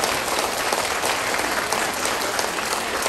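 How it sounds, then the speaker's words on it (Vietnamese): A large audience breaks into steady, dense applause honoring Abbot Từ Bi at the opening ceremony of a North American Buddhist retreat, the clapping loud, even and unbroken throughout with no voices. "ngày hôm nay chúng ta một tràng pháo tay rất lớn để tán dương công đức của hòa"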